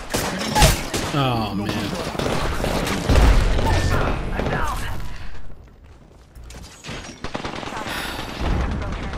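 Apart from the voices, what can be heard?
gunfire in video game Apex Legends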